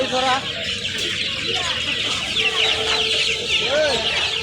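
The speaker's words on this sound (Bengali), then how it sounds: "এখান থেকে সব ধরনের মুরগি কিনতে পারবেন" Chickens clucking and squawking at a busy poultry market in Tongi, Dhaka, several birds close by over continuous crowd chatter and market noise.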